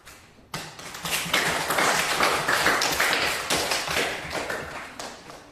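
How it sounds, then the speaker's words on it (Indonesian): A classroom group applauds a student's answer, with steady, fairly loud clapping after a brief quiet start that keeps going to the end. "Kita tepuk tangan untuk jawaban nomor 2 yang kamu jawab."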